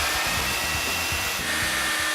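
A chainsaw cuts into a block of ice at a culinary institute, its motor a steady, loud, continuous buzz with a slightly pulsing low rumble, running alone without any voices.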